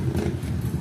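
A washing machine motor spins with a low, steady rumbling churn, brief and close, with a slight rhythmic wobble.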